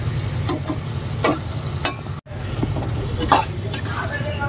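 Mutton with onion, ginger and garlic is sautéed in a pan with irregular stirring strokes and scrapes over a low sizzle, broken by a brief dropout near the middle; a voice is faintly present.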